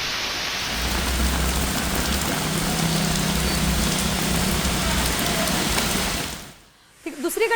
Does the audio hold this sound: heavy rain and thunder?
yes